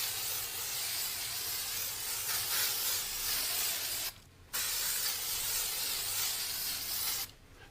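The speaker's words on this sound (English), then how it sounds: "Spray on a good coat of our Tack 2000 and then into the box." Long continuous hissing spray from an aerosol can of Tack 2000 spray adhesive, broken by two short pauses, loud and close.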